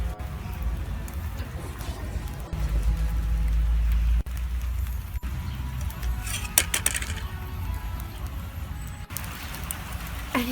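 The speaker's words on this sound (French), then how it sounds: "Cette pluie, c'est insupportable." Steady rain falls outdoors as a dense hiss, with scattered pattering and clattering drops and a brief low rumble partway through. No one speaks.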